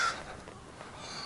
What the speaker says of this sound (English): Here comes a crow,